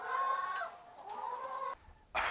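Hens clucking on an organic egg farm with an outdoor range, a run of soft tonal calls fading in and out, a quieter gap, then a brief louder burst at the end.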